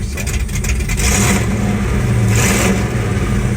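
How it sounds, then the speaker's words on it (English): A 1973 Plymouth Roadrunner V8 engine revs up loudly twice in quick succession, a deep throaty rumble surging and settling between the bursts. "So nice sounding car."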